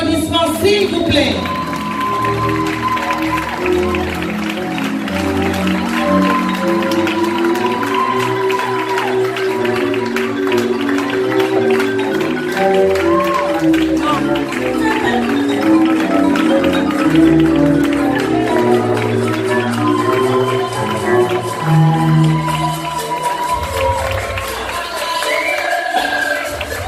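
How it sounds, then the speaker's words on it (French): An audience at an evening awards ceremony bursts into sustained applause and cheering, the clapping dense and continuous throughout with music and crowd noise mixed in. "Sous vos applaudissements, s'il vous plaît."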